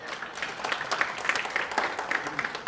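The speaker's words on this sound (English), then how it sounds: "Now you need to just clap for the guy that's here on stage." A convention audience applauding in a conference hall, a dense, even patter of many hands clapping together, moderately loud and steady for a couple of seconds.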